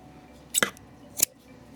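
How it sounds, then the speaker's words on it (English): Scissors snip through yarn during crochet, two quick close metallic cuts about half a second apart in a quiet room. "we'll cut off our yarn"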